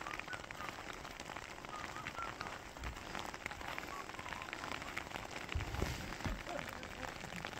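Rain falls steadily on a mountain trekking trail, a dense even patter with no pauses and a few heavier splashes near the end.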